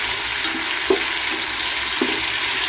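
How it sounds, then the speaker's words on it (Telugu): Pulav ingredients fry in a pan, a steady bright sizzle with a couple of soft stirring scrapes breaking through, close and continuous without any talk. "బాగా వేయించాలి"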